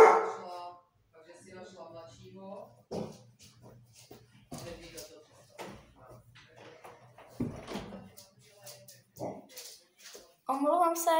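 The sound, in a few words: dog barking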